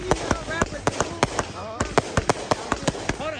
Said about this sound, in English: they over doing fireworks over there